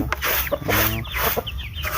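Chickens cluck loudly and close by in a dense burst of repeated clucks and squawks outdoors, with no one speaking.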